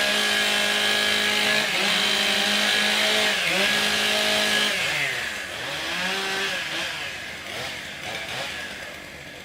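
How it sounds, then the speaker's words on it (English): Two chainsaws warm up before a STIHL Timbersports log cutting race at a Canadian pro championship, revving and idling in a loud, buzzing drone with repeated rising and falling engine pitch, close by. "Warm up your saws."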